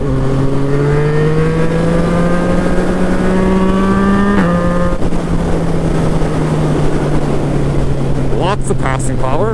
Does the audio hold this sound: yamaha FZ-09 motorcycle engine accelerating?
yes